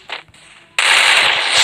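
An AK rifle fitted with the Blue Flame Draco skin fires in a shooting video game. After a near-quiet moment, a sudden loud burst of rapid, continuous gunfire begins and carries on without a break to the end.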